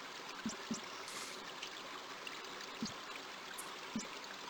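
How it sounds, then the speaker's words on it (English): Steady soft trickling water from King's Quest V with a few faint low thumps, quiet and continuous with no voices. "At least the water sounds realistic."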